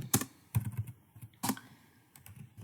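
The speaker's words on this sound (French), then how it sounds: "si j'écris la phrase « Lolo est trop loin" A handful of quick keystrokes on a computer keyboard, tapped out as a sentence is typed. The clicks come close and crisp in small irregular bursts, with short pauses between them.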